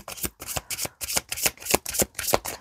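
Tarot cards riffled and shuffled for a reading, a quick series of crisp papery riffs and soft slaps repeating roughly every third of a second, close up and alone.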